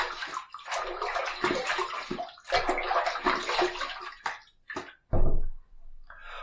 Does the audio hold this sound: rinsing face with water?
yes